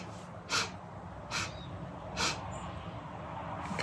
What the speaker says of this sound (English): inhale through the nose 4 equal sniffs like this